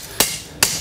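A hammer strikes a copper bar twice while a spatula is forged, each blow a sharp, loud metallic hit followed by a short ringing decay, spaced about 0.4 seconds apart.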